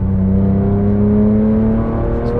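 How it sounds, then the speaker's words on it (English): A Porsche 911 997 GT3 engine holds a loud, steady high-revving drone that rises slightly, close up with no voices. "In the GT3, man, this car sounds good. Revs very quickly."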